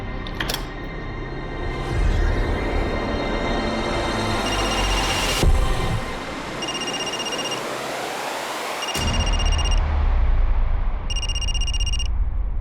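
A mobile phone rings with repeated electronic beeping tones amid loud rumbling background noise in a TV crime drama, the ringing pattern returning in short bursts.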